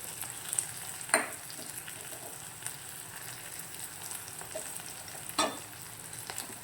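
Cinnamon and ginger-garlic paste frying with curry leaves for rava kichadi, a faint, steady sizzle with two distinct scraping stirs of a spoon in the pan, close and quiet, with no talking.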